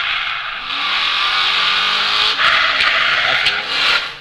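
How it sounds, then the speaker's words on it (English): A truck brakes loudly at a firefighter drill competition, giving a harsh, sustained high-pitched squeal that swells and pulses for several seconds, close and dominant with faint crowd noise beneath. "It was very loud braking on that truck."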